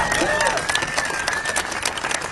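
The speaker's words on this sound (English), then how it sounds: "Got another immense round of applause for Professor Ryan Enos" A protest crowd at Harvard applauds Professor Ryan Enos, dense clapping and cheering filling the air throughout with a voice cutting across it.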